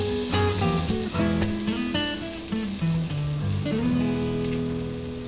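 Butter sizzles and melts in a pot for potato leek soup, a steady crackling fry heard close with light background music, no talking.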